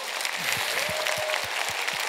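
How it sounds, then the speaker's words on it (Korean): A church congregation gives a warm round of applause to encourage the young adults gathered for a sermon. The clapping is steady and dense, filling the whole moment, with faint low voices murmuring underneath. "여러분 따뜻한 응원의 박수, 격려의 박수 한번 해줄 수 있어요."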